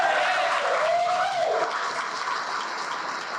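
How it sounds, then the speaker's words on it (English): Steady applause from an indoor awards-show audience, honoring Fran Duffy, fills the room continuously and fades slightly toward the end, with a faint tone held under the clapping. "Give me a round of applause for the great Fran Duffy."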